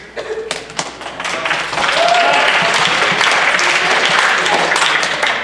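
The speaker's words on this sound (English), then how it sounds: "why am I clapping?" A group of people claps, starting with scattered individual claps and thumps, then swelling after a couple of seconds into sustained, dense applause with some voices underneath.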